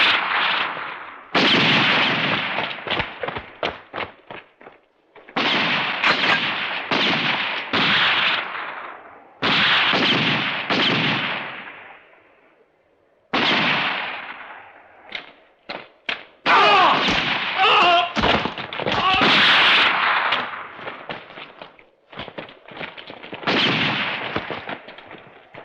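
Bursts of gunfire crack through a western shootout, loud and close, in rapid volleys and single shots with brief gaps between flurries.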